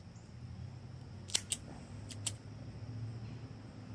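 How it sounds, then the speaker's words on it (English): A cigar cutter snips open an Alec Bradley Tempus box-pressed cigar, giving two pairs of quick, sharp clicks close by over a faint steady background hum. "I don't think you'll have any problem with your cutter whatsoever getting that cut open for us."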